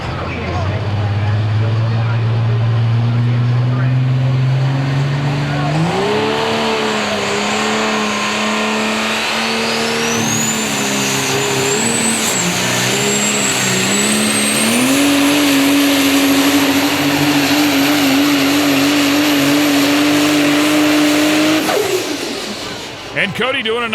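A super stock diesel truck's engine roars loudly through a truck pull, rising in pitch in steps as it strains, briefly bouncing off the rev limiter before cutting off near the end, with a commentator talking over it.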